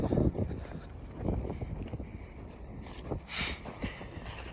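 Strong wind buffets the microphone in rough, uneven gusts, producing a continuous low rumble, outdoors among farm fields of maize, wheat and rapeseed.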